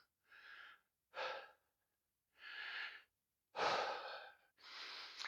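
Five loud breaths close to the microphone during a warm-up workout for older men, heavy and breathy with short pauses between them and no talk.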